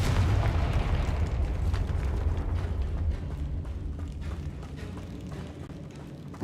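A Confringo spell explosion in a Harry Potter video game, a dense rumbling burst that decays gradually over several seconds, with low crackling debris and no talking.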